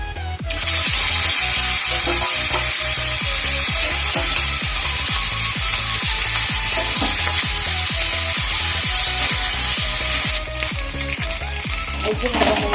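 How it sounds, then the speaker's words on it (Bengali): Fish frying in a small amount of oil gives a loud, steady sizzle that holds for about ten seconds then drops slightly, with a regular ticking, ratchet-like clicking running underneath throughout. "তেল দিয়ে দিয়েছি খুবই অল্প তেল দিয়ে রান্না করি দিয়ে দিচ্ছি মাছ"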